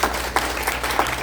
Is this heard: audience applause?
yes